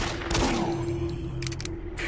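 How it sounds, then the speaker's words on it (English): Rapid bursts of gunfire from the video game Doom 3, several quick shots overlapping with a steady electronic tone and game ambience. "He's shooting me!"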